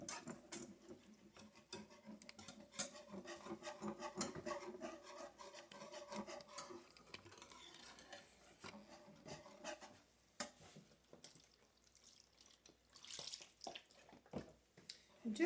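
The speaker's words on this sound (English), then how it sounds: "you want to be careful whisking, because you know you can slosh it everywhere" Whisk scraping and stirring broth into gravy in a pan for hamburger steak, a steady quiet rasping swish that runs for about ten seconds, then thins out to scattered taps and light sloshes.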